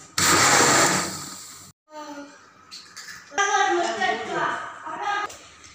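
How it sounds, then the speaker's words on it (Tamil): A mixer grinder blending watermelon juice whirs loudly for a couple of seconds, stops, then speech follows with the blades winding down in the background. "இப்போ மிக்சியில் அடிச்சுக்கலாம்."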